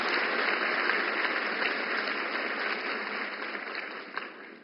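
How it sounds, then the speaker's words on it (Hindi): Large audience at a women's economic empowerment programme in New Delhi applauds to welcome the Prime Minister, a steady, dense roar of clapping that holds evenly and fades slightly toward the end. "तालियों की गड़गड़ाहट से हम माननीय प्रधानमंत्री का स्वागत करेंगे"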